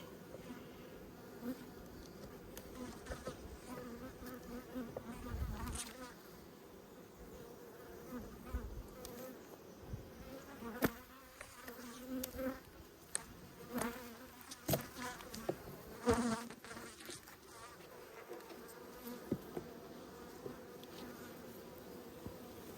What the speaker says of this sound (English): there's so many bees I'm not going to bother